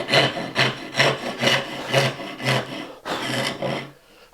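A hand saw cuts a blind sliding dovetail in wood, rhythmic back-and-forth rasping strokes about twice per second, close and clear, with no talking.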